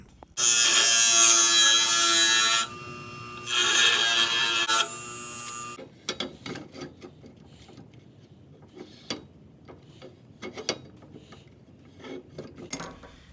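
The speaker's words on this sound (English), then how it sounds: "So I want to grind those off." A grinder buzzes loudly as it grinds parts off during a 2x72 belt grinder build, running in two long bursts with a brief pause between, then giving way to quieter clinks and handling noises.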